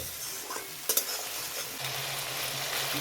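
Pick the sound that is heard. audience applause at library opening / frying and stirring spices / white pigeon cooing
frying and stirring spices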